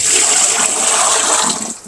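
Dirty water rushes out of an opened whole house filter housing packed with charcoal and sand, a loud steady gushing pour that tapers off near the end.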